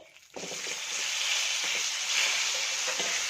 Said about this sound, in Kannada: ಇದು ತೊಂಡೆಕಾಯಿ ಚೆನ್ನಾಗಿ ಇಲ್ಲಿ ಎಣ್ಣೆಲಿ ಫ್ರೈ ಆಗ್ತಾ ಇರ್ಲಿ